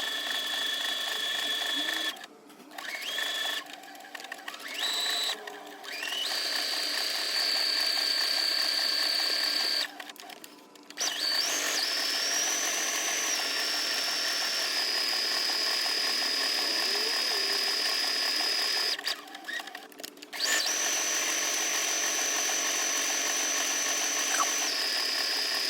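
A sewing machine runs long steady stretches of fast mechanical whirring while sewing decorative stitches, its pitch shifting between patterns, with several brief pauses where the motor stops and restarts.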